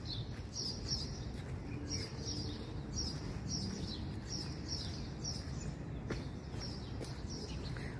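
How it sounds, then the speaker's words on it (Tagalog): A small bird chirps in a repeating series of quick, high tweets during a morning walk along a street, heard over a low background of outdoor noise. "Cute na ibon."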